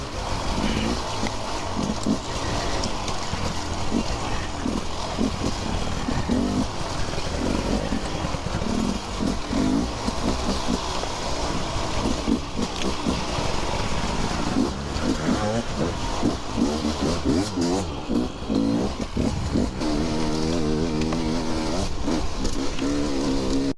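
Enduro motorcycles, a Beta 300RR and a KTM 300TBI two-stroke, ridden hard at night: continuous close engine revving and crackling two-stroke buzz that rises and falls throughout, loud and without pause.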